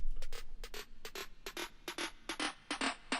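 A rapid snare roll of sharp, bright hits in quick bursts, the pitch of the drum stepping downward from high to low over a few seconds.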